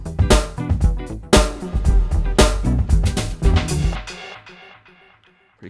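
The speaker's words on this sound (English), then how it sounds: "You probably heard that arpeggio come in." A synth arpeggio from the Drambo app, looped in Loopy Pro, plays alongside drums with strong snare hits in a loud busy mix, then the drums drop out and the sound thins to quieter tones fading toward the end.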